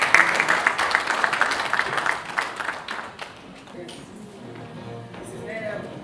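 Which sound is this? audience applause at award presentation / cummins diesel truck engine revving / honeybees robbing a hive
audience applause at award presentation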